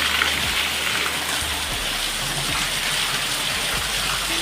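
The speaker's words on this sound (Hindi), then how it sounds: "ऐसी बारिश में कहाँ जाना है बताओ" Heavy rain pours down in a dense, continuous hiss with no break or change in intensity, close and enveloping throughout.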